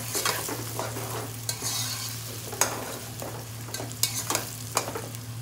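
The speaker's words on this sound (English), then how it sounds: "The oil is very hot, it's popping." Diced onions dropped into very hot oil in a pan, crackling and popping loudly with a continuous sizzle and repeated sharp spits, close up and without talk.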